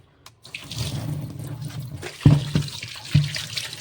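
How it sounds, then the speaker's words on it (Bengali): Five tilapia fish rinsed under a running kitchen tap, water streaming and splashing steadily with a few heavier sloshes and thumps, close and unaccompanied by speech. "এখন এই মাছগুলোকে ভালো করে ধুয়ে নিই"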